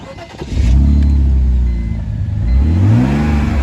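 A car engine revs up and falls back in two surges, loud and close, with low rumbling tones that rise and sweep in pitch and no talking over it.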